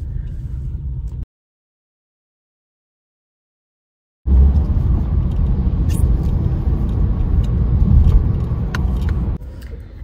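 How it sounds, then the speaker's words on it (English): Road traffic rumbles past in a steady low drone of car engines, broken by a few seconds of complete silence before the noise returns. "traffic."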